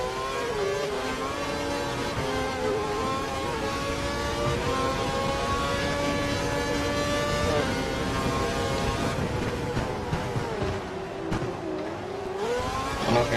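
A Formula 1 car in the F1 2012 racing game screams along at high speed, its engine a sustained loud, shrill whine with steady rising harmonics, dipping briefly as it shifts gears toward the end.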